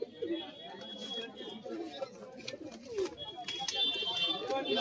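Pigeons of Rampuri Lalsira and Ambarsira breeds coo softly at a busy outdoor pigeon market in Galiff Street, the low throaty calls repeating under steady crowd chatter and nearby talk.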